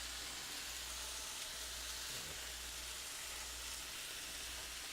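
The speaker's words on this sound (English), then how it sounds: "I'm going to let the bacon cook until it's done, completely done on both sides, just to get enough grease." Bacon fries on low heat in a pan with a steady, soft, even sizzle and crackle that runs unbroken throughout, with no voices.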